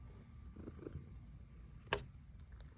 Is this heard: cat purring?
yes